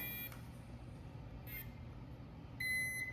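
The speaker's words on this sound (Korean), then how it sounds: "삐 소리가 나면 시작할 수 있습니다" Short high electronic beeps from a robot-kit money safe sound three times, spaced apart, over a steady low background hum, the last one slightly longer and louder.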